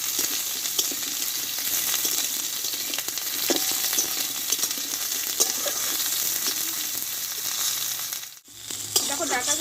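Drumstick stems frying in a little oil, a steady bright sizzle with occasional stirring scrapes, close and continuous, briefly dipping near the end before resuming.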